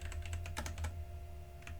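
Quick bursts of computer keyboard typing, a rapid cluster of close, crisp key clicks followed by a pause and a couple more taps, over a low steady hum with no talk.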